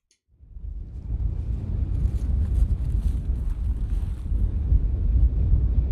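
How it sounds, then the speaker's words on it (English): Strong wind blowing outside a greenhouse on a cold day, a steady loud rumbling roar of gusts buffeting the microphone that starts abruptly and continues without a break. "it is a cold and windy day."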